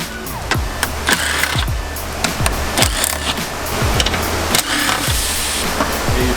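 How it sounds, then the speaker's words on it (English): A ratchet with a 10mm socket backs out bolts during a front mount intercooler install on a 2017 Subaru WRX STI, giving close, rapid bursts of clicking that repeat steadily over a low mechanical hum. "10mm socket, you're going to pop out these bolts first."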